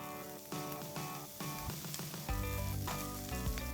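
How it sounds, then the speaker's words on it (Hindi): Vegetables sauté in a hot pan with a pinch of salt for egg chowmein, a loud, steady sizzle broken by repeated scraping and clattering strokes from stirring. "ज़रा सा नमक डालेंगे और बस 30 सेकंड के लिए इन्हें भी सौते कर लेंगे"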